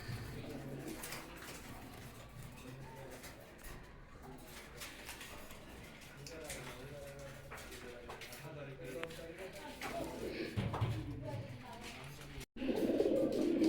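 Pigeons coo softly throughout at a pigeon market, with a murmur of background activity, while someone talks over them.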